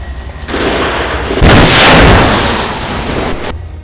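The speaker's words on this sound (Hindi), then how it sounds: "जिसके बाद एक बड़ा धमाका होता है" A loud, sudden blast as a rocket hits a tank in Gaza, followed by a rumbling, roaring burst that swells and slowly fades over a few seconds.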